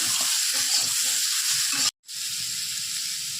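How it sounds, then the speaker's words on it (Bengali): Stinging catfish curry fries in a pan with a continuous close sizzle and soft stirring scrapes, broken by one brief silent gap before the sizzling resumes. "পরিমাণ মতো নুন দেব দিয়ে একটু নেড়ে দেবো"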